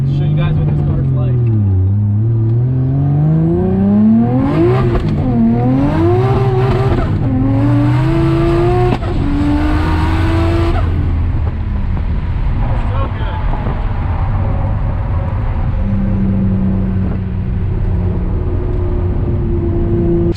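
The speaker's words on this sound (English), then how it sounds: "banging through all the gears to show you guys what this car's like." A 700 hp Nissan Skyline R32 roars close up from inside the car, climbing in pitch through several gears with brief drops at each shift, then easing to a steadier drone.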